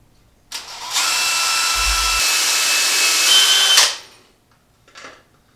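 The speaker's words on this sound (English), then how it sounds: "So we're going to pre-drill these so that when we put a screw in" Close, loud power drill boring pilot holes into old dried wood for a shelf bracket: one continuous whining run of about three seconds that spins down, followed by a brief faint whir.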